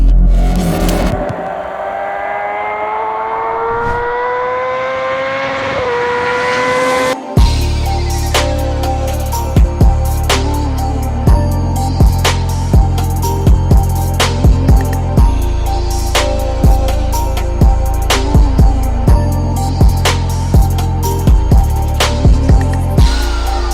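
A Honda CBR 1000RR Repsol Edition sport motorcycle with a 1000cc, 180-horsepower engine revs loudly and rises in pitch, then cuts abruptly into a dense, pulsing stretch of loud sound with regular sharp beats.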